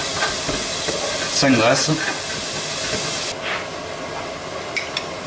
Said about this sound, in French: On va mettre notre oignon à suer